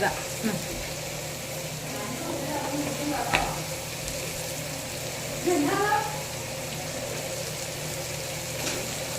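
Onions and other ingredients are sautéed in a pan for a home-cooked beef curry, giving a low steady sizzle with occasional stirring scrapes, fairly quiet throughout.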